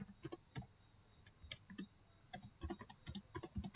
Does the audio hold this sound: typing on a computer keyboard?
yes